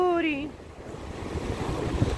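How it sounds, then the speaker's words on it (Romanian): Sea waves wash onto the shore with a steady broadband rush and gusty wind noise, just after a short spoken word. "Valuri, valuri."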